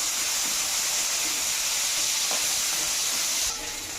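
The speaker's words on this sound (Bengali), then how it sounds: "আলুটাকে একটু ভেজে নেব।" Boiled potatoes fry in a pan, producing a loud, steady steamy hiss close up that eases slightly near the end, with no talking.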